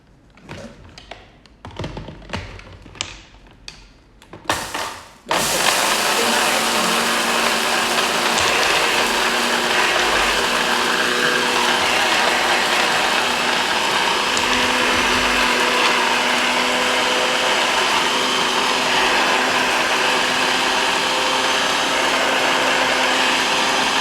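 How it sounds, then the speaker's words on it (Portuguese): A countertop blender grinding flaxseed into flour starts after a few seconds of talking and knocking, then whirs loudly and steadily for the rest of the clip. "Gente, eu tenho medo desse liquidificador"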